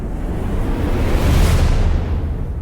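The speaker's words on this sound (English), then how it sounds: "if we take out the drum roll and just listen to the riser effects" A whooshing noise riser swells steadily, brightening as it builds and then fading, loud and continuous with no other sounds.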